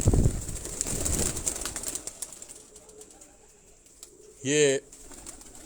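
Migratory pigeons kept in a loft flap their wings and stir near the start, then coo quietly in the background as the noise fades, and a voice speaks briefly near the end.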